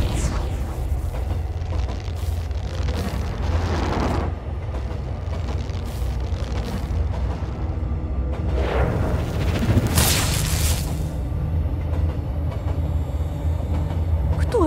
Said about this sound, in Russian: поезд прибывает на станцию Парковочная